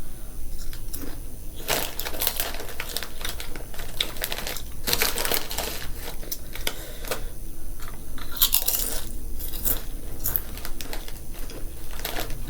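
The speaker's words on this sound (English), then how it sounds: "Potato chips." Loud, close crunching of potato chips during a spicy Buldak ramen mukbang, with rapid irregular crisp bites and chewing running continuously with no talking.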